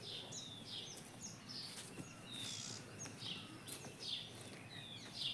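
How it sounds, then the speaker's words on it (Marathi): Birds chirping on an early morning outdoors, repeated short high tweets and calls scattered across the scene at moderate distance over steady background ambience, no talking. "पक्ष्यांचा आवाज येतोय."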